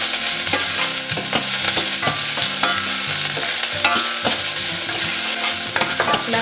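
Chopped onion fries in hot oil with mustard seeds and curry leaves in a pan, a loud close sizzle with busy crackles and repeated stirring knocks.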